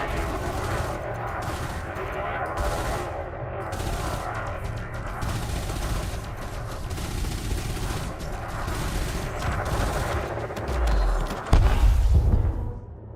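Weapon fire in the space game Elite Dangerous: repeated bursts of gunfire over a steady ship hum, with a heavier deep thump near the end, loud and continuous.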